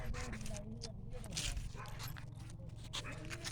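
A purebred dog barks and whimpers close by, outdoors amid other commotion, with people talking over it throughout.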